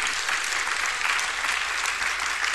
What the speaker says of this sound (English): give God a hand clap of praise in the building